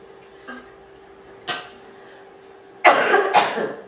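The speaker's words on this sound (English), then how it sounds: "I think I'm going to have a cough attack" Someone getting over a cold breaks into a short coughing fit of two harsh, close coughs, after a few faint throat noises and a soft tap.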